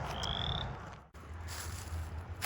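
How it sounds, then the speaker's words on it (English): A bullfrog croaks along a river trail, low throaty calls rumbling close by against a quiet outdoor background, with no voices. "I just wanted to get a little taste of that bullfrog audio there, because you can really hear he's croaking up a storm"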